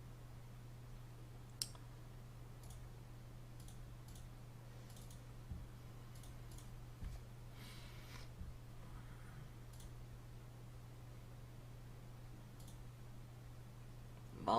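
Quiet, scattered clicks of a computer mouse sound close by over a steady low electrical hum, irregularly spaced.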